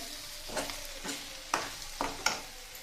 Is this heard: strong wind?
no